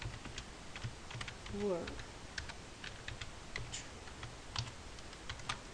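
Fast, light clicking of a computer keyboard while Python code is typed, a quiet irregular patter of keystrokes with a brief spoken word partway through.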